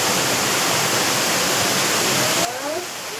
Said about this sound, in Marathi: पाणी आहे ना आता आता कपारीतून असं येत आहे